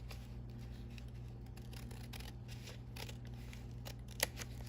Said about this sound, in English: And then I can somehow cut this edge right off.